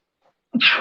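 A single sharp sneeze bursts out after half a second of near silence, close and loud, with a short breathy tail and no talk around it.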